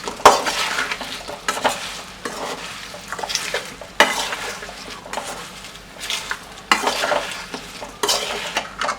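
Fried fish stirred into a spice mix in hot oil for fish pickle, loud rhythmic scraping strokes of a spoon against the pan over a constant sizzle, close and repeated every second or two.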